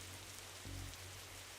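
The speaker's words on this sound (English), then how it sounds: "whenever standing in this rain stops being fun for you" Steady rain hiss from the rainy street ambience of The Darkside Detective video game, a continuous even wash with a low hum underneath and no voices.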